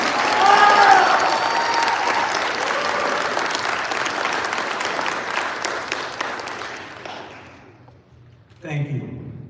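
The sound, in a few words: audience applause at commencement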